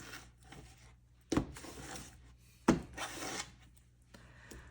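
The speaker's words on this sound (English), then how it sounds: "I don't even know how I'm going to shuffle these cards" Tarot cards being shuffled by hand in a quiet room, with soft rubbing and sliding broken by two sharp taps as the deck is squared.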